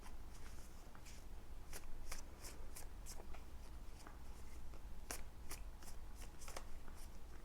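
Tarot cards being shuffled and drawn, a run of crisp papery flicks and snaps, some in quick clusters, close up with no talking.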